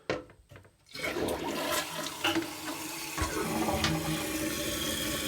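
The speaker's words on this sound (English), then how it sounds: "I will just try flushing it just to see how it goes." An AquaSource toilet fitted with a Fluidmaster 400AH fill valve flushes up close. A quiet start gives way to a loud, continuous rush and gurgle of water that holds steady to the end.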